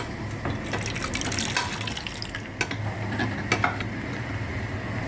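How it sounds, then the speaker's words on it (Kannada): Curd being spooned into a biryani dish during cooking, soft wet plops and stirring sounds with light sizzling beneath, close and steady with no talk. "ಈಗ ಇಲ್ಲಿ ನಾನು ಮೊಸರು ಹಾಕ್ತಿದ್ದೀನಿ"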